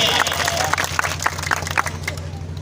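Applause welcoming a guest at a government senior secondary school's annual function in Kothar, Rajasthan: steady crowd clapping throughout with scattered louder claps, mixed with a low hum and background chatter.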